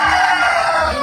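Chickens and a rooster at a Filipino home yard, a steady dense chorus of clucking with crowing blended in, loud and continuous with no speech.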